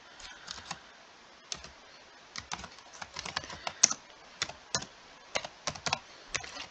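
Typing on a computer keyboard, entering a news headline: irregular bursts of crisp key clicks with short pauses, close and fairly quiet, no voices.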